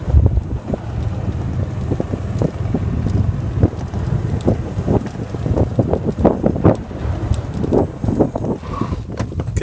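Wind blowing across an open golf course buffets the microphone with loud, continuous gusty rumble that swells and dips unevenly, with no other sound standing out.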